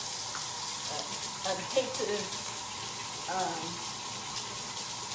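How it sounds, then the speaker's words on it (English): Hands are washed under a running kitchen tap, a steady hiss of flowing water with faint splashing and clinks, while a person speaks briefly over it. "I'm gonna step over here and wash my hands right quick"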